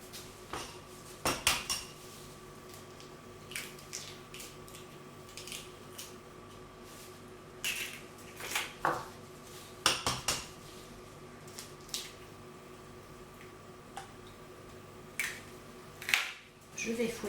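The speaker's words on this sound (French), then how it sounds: "je vais fouetter tout ça" Egg yolks and cornstarch whisked in a bowl for a custard flan: faint scraping and soft tapping, broken by a few sharp, close metallic clinks and knocks against the bowl at irregular intervals.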